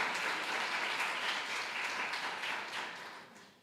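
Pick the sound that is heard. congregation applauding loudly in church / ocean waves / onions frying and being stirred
congregation applauding loudly in church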